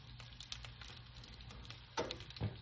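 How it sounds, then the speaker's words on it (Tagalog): Pork sizzles in a pan while being fried for sinigang, a quiet, steady crackle with scattered pops and a couple of slightly louder spits near the end. "Kailangan ko munang i-fried yung meat para siya ay lumalabas yung oil niya"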